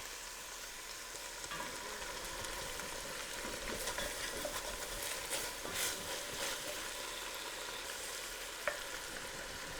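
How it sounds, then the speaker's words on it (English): A pan of turkey and vegetables sizzles steadily as white wine is poured in to deglaze, with a soft, continuous hiss and faint stirring scrapes. "I have leftover white wine from Thanksgiving, so I'm gonna deglaze."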